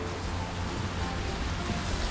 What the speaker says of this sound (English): beautiful little, I'd assume man-made, tranquil waterfall